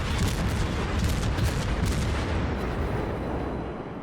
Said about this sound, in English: And we send some AP shells downrange.